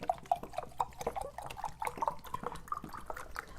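White vinegar glugs and trickles out of a large bottle in a stream of small irregular splashes and drips, fairly close and quiet, with no voices.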